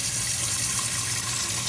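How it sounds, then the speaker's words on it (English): Tap water runs steadily into an Instant Pot inner pot, a continuous close rushing and splashing fill with no voices, heard while making pork bone broth. "I'm gonna fill up my Instant Pot with some water,"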